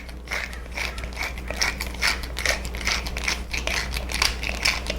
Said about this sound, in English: And then freshly ground pepper.